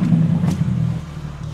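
Car engine running steadily with a low, sustained hum, revving to dry the tyres before a drive, with bucket seats inside; no talk over the constant drone.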